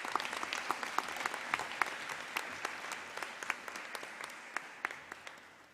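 An audience at a girls' high school awards ceremony applauds prize winners in a hall. The clapping is a steady, moderate wash, with a few sharper individual claps standing out, and it slowly fades toward the end.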